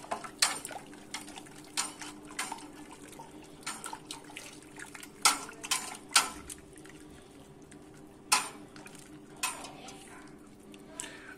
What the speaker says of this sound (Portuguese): Agora eu vou fazer o whirlpool, tá bom? Vai ficar bem sujo novamente.